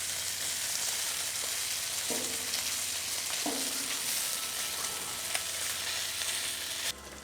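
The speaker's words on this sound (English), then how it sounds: "now we've got our bacon flipped over and we're getting it, cooked on the other side here" Strips of bacon sizzle and crackle steadily on a Pit Boss griddle, a dense, continuous frying hiss at close range with a few brief clinks of a spatula partway through and no talking.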